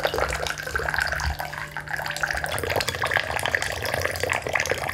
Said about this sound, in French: Je vais prendre une douche.